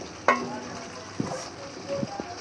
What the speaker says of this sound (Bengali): তেল গরম হয়ে গেছে মাছ দিয়ে দিই